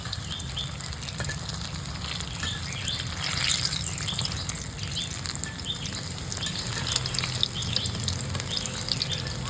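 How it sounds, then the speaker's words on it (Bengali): Bengali village-style chops made from puffed rice fry in hot oil, giving a steady, dense sizzle and crackle throughout, close and moderately loud, with no talking. "বাকিগুলো ভেজে নেব এক পাশ ভাজা হয়ে গেলে"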